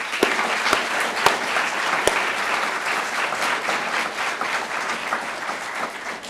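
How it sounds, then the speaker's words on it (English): Sustained applause from a graduation audience at a university economics commencement, dense and steady throughout with a few sharper individual claps standing out, no talking over it. "Maybe we could stop and have an applause for Stefanos."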